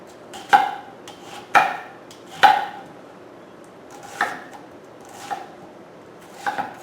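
A knife chops tomatoes and cucumbers for a salad on a cutting board, with about six separate sharp cuts spaced roughly a second apart, close and fairly quiet.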